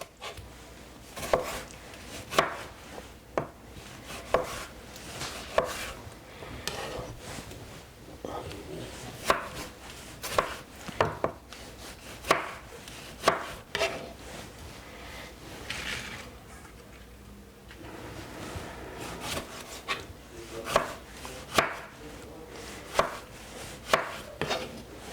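A knife chops tomato on a board in quick, close, rhythmic strokes, grouped in bursts with a short pause midway.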